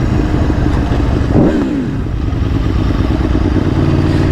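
An Aprilia Tuono V4 1100 Factory motorcycle engine runs loud and close, with a brief sharp rev rising and falling in the middle over a steady rumble.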